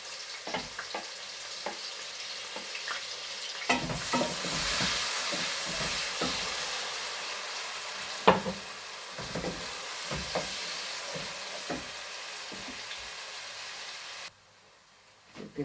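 Garlic and onion fry in a pan, a steady close sizzle and hiss with occasional clicks and stirring taps, cutting off abruptly near the end.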